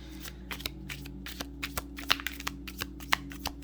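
Quiet, repeated riffling and slapping of tarot cards being shuffled in irregular bursts, close and alone over a low background hum.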